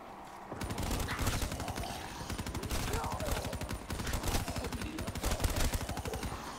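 Rapid gunfire in Black Ops 3 Zombies Chronicles, a dense stream of shots rattling without letup for several seconds, loud and close.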